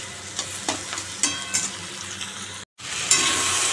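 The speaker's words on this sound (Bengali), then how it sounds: "একটু লাল করে ভেজে তারপরে ঢ্যাঁড়সগুলো দেবো।" Onions frying in a pan for an okra dish, a close, steady sizzle broken by repeated scraping stirs, with a brief dropout before the sizzle returns louder.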